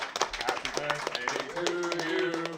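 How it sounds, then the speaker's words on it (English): Audience clapping at a live gathering, scattered, uneven claps mixed with cheering and sung or voiced tones, fairly close and loud for a short burst. "one final round of applause"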